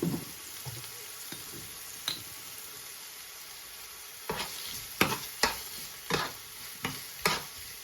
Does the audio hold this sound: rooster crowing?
no